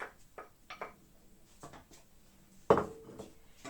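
Mashed chicken and pumpkin stirred in a bowl for a homemade dehydrated backpacking meal, quiet scattered scrapes and soft clinks of a utensil, with one sharper knock near the end.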